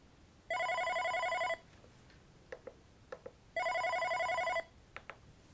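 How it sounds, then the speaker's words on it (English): A Unify office desk phone rings with an incoming call: two long electronic trilling rings about two seconds apart, clear and moderately loud, with faint clicks between them. "the context menu that shows up as soon as my phone starts to ring"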